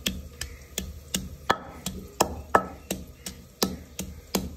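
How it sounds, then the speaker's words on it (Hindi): Garlic being crushed into a paste on a board in a home kitchen, a steady series of sharp, close knocks about every half second, with no talking. "ये मैं लहसुन का पेस्ट बनाने लगी।"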